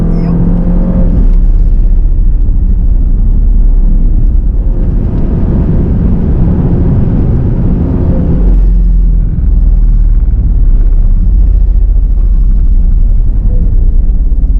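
A loud, continuous 500-horsepower race car engine roar, rising and dropping in intensity over several seconds, with constant low rumble throughout.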